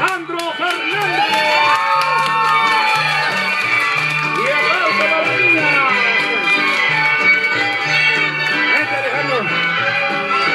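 Loud crowd cheering and whooping at a lively gathering with Mexican music, with children shouting and some scattered clapping, steady and dense throughout with voices mixed in.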